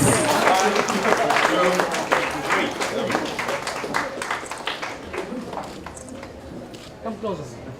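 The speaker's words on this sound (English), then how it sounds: "I request everybody to give a huge round of applause for the grand launch of 18 plus bedtime stories for grown-ups" A crowd at a book launch in Bangalore gives a burst of clapping with sharp, individual claps. The applause thins and fades over several seconds while voices talk over it.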